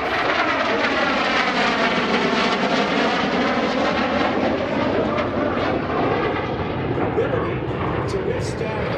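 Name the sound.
F-16 Fighting Falcon jet flying at airshow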